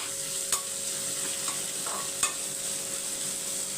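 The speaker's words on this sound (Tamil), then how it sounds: "வெங்காயம் வதங்கிறதுக்கு மட்டும் சேர்த்துருக்கேன் இப்போ இது ஒரு பக்கம் வதங்கட்டும்" Onion sautéing in a pan for a festive South Indian tiffin, a steady broadband sizzle with a few soft stirring scrapes and taps, close and alone with no voices.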